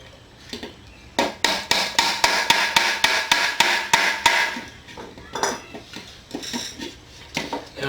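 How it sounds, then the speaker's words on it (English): Hammer blows fitting metal hardware onto a wooden tansu chest ring out in a fast, steady run of about a dozen sharp metallic strikes, then continue as scattered, lighter taps, close and loud with no talking. "I've just got a whole lot of hammering to do to get all the"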